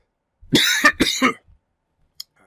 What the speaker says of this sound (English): before I had my coughing fit